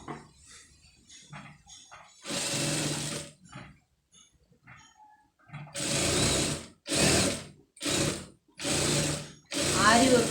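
A sewing machine stitching a blouse for embroidery runs in several loud, short bursts separated by brief pauses, with faint handling noises in the quieter gaps.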